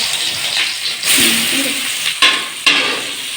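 Steady sizzling of onions frying fast in a pan for biryani, with a few spoon stirs and scrapes and two sharp clacks near the end.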